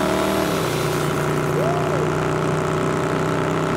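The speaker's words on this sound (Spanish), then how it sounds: "Vale la patada la motocicleta en este juego" Motorcycle engine in the game Rage 2 hums steadily at idle and light throttle, with a brief rising whine near the middle; a voice talks over it throughout.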